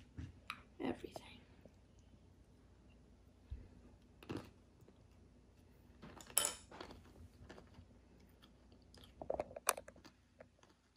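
Someone eats a piece of bread topped with hummus and olive oil up close. Soft bites, crunches and chewing come in irregular bursts, with cutlery clinks and a quiet room around them.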